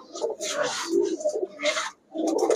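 Male green-necked pigeons coo in a series of soft, throaty phrases at a pigeon market, near and fairly loud, with brief pauses between calls.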